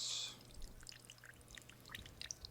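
A thin stream of low sodium soy sauce pours into a bowl while cooking bulgogi, a soft trickle followed by scattered small drips and light clinks nearby.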